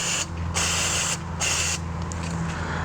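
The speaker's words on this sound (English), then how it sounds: "You can just spray this on there." Three sharp bursts of aerosol MAF sensor cleaner spray hiss onto a car's mass airflow sensor, each lasting about half a second, over a steady low electrical hum.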